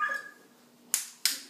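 A young child imitates a puppy with two sharp, short yips in quick succession, close and clear after a brief quiet moment.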